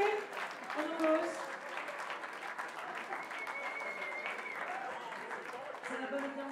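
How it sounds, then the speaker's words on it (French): An audience applauds the winner of a slam poetry competition, steady clapping throughout, with voices speaking over it. "Simon Raquet, on applaudit."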